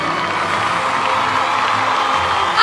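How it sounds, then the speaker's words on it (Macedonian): An audience at a children's song festival cheers and applauds for the young performers, making a dense, loud, continuous wash of crowd noise with excited shouts throughout. "Ајде аплауз за нашите Сидо звезди!"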